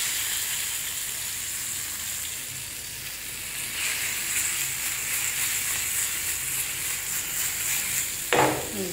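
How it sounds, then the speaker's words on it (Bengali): Mustard oil sizzles steadily in a pan while ingredients are lightly charred for a mash, a close, continuous frying hiss with a brief louder crackle near the end. "হালকা একটু পোড়া পোড়া করে নিচ্ছি, একটু সরিষার তেল দিয়ে দিলাম ঘ্রাণের জন্য"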